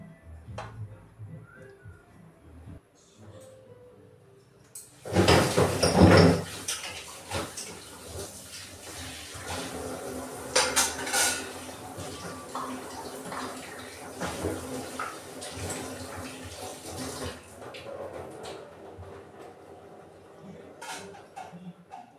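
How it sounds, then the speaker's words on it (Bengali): Small tea cups being rinsed under running water at a kitchen sink, with quiet clinks of the cups; a strong burst of splashing water starts partway through, then steadier running and rinsing continues. "চায়ের কাপগুলো ধুয়ে রাখলাম"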